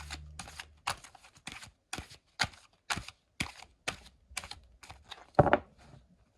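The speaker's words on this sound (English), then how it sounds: "And we're also able to get a nice, good overhand shuffle." An oracle card deck is overhand shuffled close up, producing a steady series of about a dozen sharp, evenly spaced slaps and riffles, ending with one louder thump.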